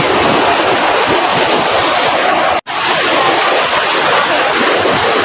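Loud, continuous sea surf rushes and roars, heavily buffeted by wind across the microphone, with a sudden brief dropout midway and no clear talking.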